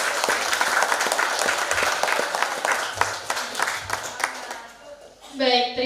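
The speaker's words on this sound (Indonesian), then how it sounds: "Sekali lagi tepuk tangan untuk Bapak Sul." An audience at an outbound tour-guide training event in Bangka Barat claps in a dense round of applause that gradually thins and fades, with a voice speaking briefly as it ends.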